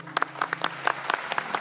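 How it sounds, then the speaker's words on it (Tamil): On a junior TV singing competition, a studio audience applauds the orchestra with sparse, scattered claps. A few hands strike in an uneven rhythm, quiet and brief. "எனக்கு வந்து முதல்ல இந்த ஆர்கெஸ்ட்ராவுக்கு ஒரு கைத்தட்டு கொடுக்கணும்"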